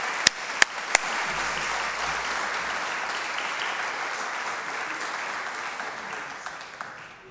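A church audience applauds as Dr. Daniel Lee comes up onto the stage. A few sharp, close claps open a steady wash of clapping that holds evenly and then tails off at the end.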